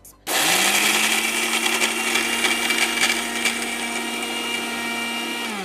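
A mixer grinder pulverises sugar into fine powder, a loud steady motor whine with a gritty rattling churn that starts abruptly after a brief pause and runs continuously at close range with no talk.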